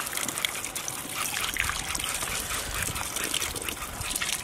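Water runs and trickles steadily as whole chickens are washed, a dense continuous splashing close by that carries on without a break and is heard alone.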